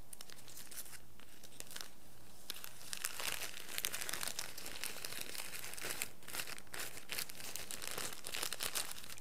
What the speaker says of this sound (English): we're going to put a little crinkle paper inside